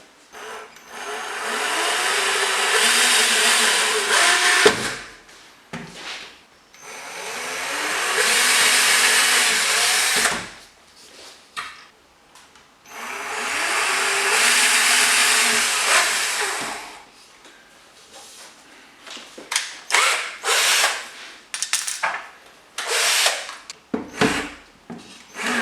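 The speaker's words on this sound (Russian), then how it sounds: "мне остается сейчас засверлиться, закрутить шурупы" A power drill drives screws into a DIY wooden chest of drawers in three long, loud whirring runs, followed by shorter bursts and rattling bumps close by.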